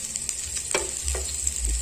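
Chopped onion sizzles and fries in a pot as the base for a beef-bone bean soup, a close, steady crackling hiss with a few stirring scrapes.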